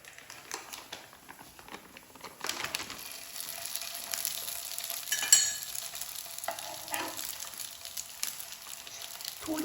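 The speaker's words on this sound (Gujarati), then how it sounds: "હવે આપણે એને ધીમા તાપે તળાવવા દઈશું." Ghughra sweet dumplings fry gently in oil over a low flame, a soft continuous crackle and bubbling sizzle that grows slightly busier partway through, close and alone with no voices.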